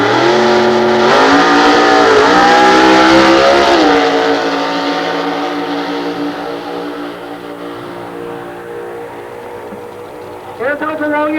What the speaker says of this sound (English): Tom Balestras out of San Bruno, California, over here in the right lane with the Chevelle